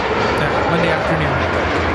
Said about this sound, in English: This is United Express 5338 coming in from Montrose